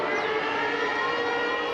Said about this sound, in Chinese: 警报声大声伫咧弹